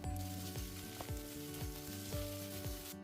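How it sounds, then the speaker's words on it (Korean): Kimchi fried rice sizzles loudly in a pan as soy sauce and sugar are stirred through, with continuous frying hiss and repeated scraping strokes of the spatula. "간장 반 스푼, 설탕 한 스푼을 넣어 골고루 볶아줄게요"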